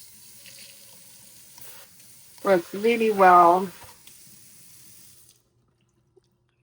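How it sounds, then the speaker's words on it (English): Water runs from a pull-out faucet into a stainless steel double sink in an upscale kitchen, a soft steady hiss beneath a short spoken comment before the flow cuts off into silence. "This is a stainless steel double sink with a nice pull-out"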